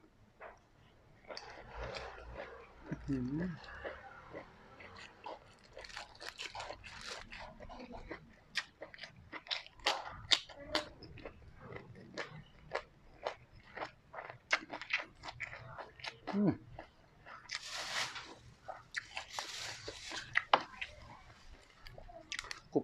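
Crunchy food is chewed in quick, crisp bites close to the mic, with brief pauses between bursts.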